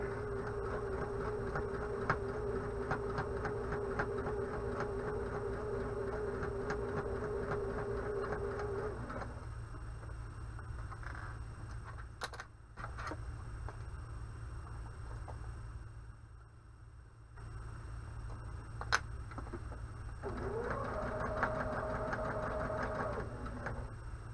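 A sewing machine stitches along a hanging kitchen towel in a steady, fast whirring run, drops to a quieter pause midway, then starts stitching again near the end, with no talking.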